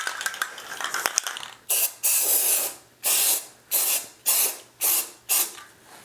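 Lacquer primer sprayed in repeated bursts, six loud, close hissing blasts of about half a second each with short pauses between, after a few light clicks and taps.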